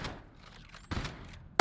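A few gunshots from the game Resident Evil Resistance: one sharp report at the start, a duller burst in the middle, and a loud close blast at the end, with quieter game sounds between them.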